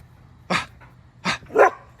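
A dog lets out three loud, close barks, short sharp bursts with the last one higher and more yelping, separated by brief silences.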